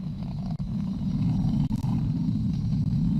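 SpaceX Falcon 9 engines roar during launch as the rocket throttles down near maximum dynamic pressure, giving a continuous deep rumble that stays heavy and steady with a few brief dropouts.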